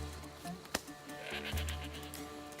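A goat bleats once or twice in Assassin's Creed Odyssey, brief animal calls over steady game ambience with no talk.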